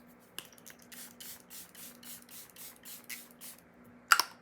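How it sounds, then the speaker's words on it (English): A quick series of close, hissing spritzes from a makeup setting spray bottle, about ten short bursts in an even rhythm, then a sharp click at the end. "last but not least, setting spray."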